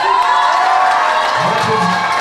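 Wedding guests at a civil marriage ceremony break into cheering and clapping, a close, continuous crowd roar with shouts rising above it.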